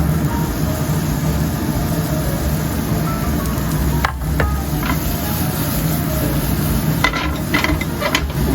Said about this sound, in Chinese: 我们直接炒洋葱